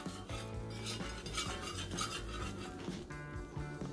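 A utensil scrapes and stirs a lump-free cream sauce for potato gratin in a pot, producing rhythmic close scraping strokes with tonal metallic rubbing, unaccompanied by speech.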